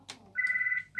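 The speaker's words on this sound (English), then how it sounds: "Oh, now the phone's ringing." A landline telephone rings indoors at a quilting shop, two electronic trills, a long one followed by the start of another, clear and fairly close with no talk over them.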